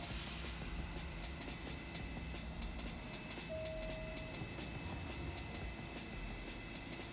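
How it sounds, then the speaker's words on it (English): A subway train in Trainz Railroad Simulator 2019, an H local bound for Higbie Street, runs with a steady low rumble and rolling wheel noise, moderately loud and continuous, with a brief tonal whine partway through. "Higbie Street bound H train"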